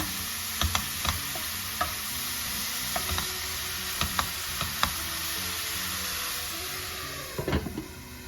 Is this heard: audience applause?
no